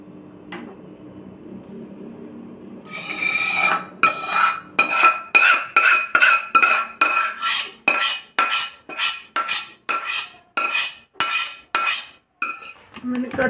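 Roasted gram flour being mixed into a sesame mixture in a pot for til laddoos, with a rapid run of loud, rhythmic metallic scraping and clanking strokes of a spoon against the pot, alone and close.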